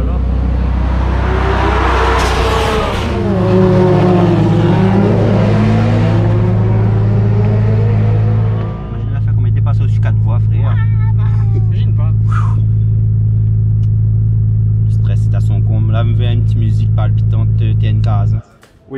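A Nissan GT-R, the fastest on Réunion, accelerating hard from inside the cabin: a loud, steady engine roar rises in pitch, drops briefly at a gear change, then pulls on with crackles while people talk over it.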